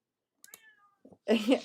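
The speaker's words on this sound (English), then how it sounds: "that's my cat meowing to try to get inside" A house cat meows to be let inside: a couple of short, thin meows, then a louder, drawn-out meow close by, with no talking.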